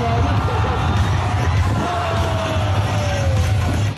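A crowd yells, whoops and cheers at an outdoor water slide jump, loud and close throughout, with overlapping shouts over a busy background wash.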